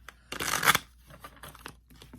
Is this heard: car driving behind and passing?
no